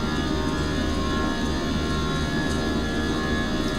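Jet engines spool at takeoff thrust in a flight simulator game, a steady, loud, broadband roar that holds constant throughout with no talking.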